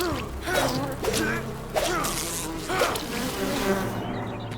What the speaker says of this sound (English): Oh, we got the bees! Why are the bees always here?